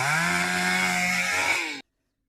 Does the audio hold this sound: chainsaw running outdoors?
yes